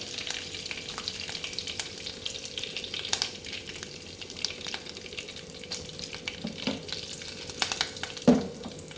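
Dried red chillies and curry leaves sizzle steadily in hot oil in a pan while a moong dal curry is cooked, with a brief stirring clatter near the end and no talking.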